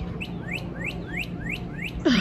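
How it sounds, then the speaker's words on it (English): Cardinals sing outdoors at a lagoon-side RV campground in Florida, giving six evenly spaced, clear rising whistled notes. Near the end a brief louder sound cuts in. "Oh my goodness, they're cardinals."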